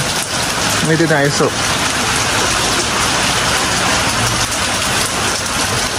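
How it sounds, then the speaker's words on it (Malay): Heavy rain pours steadily as a dense, constant hiss, with a brief spoken phrase near the start. "Hujan lebat."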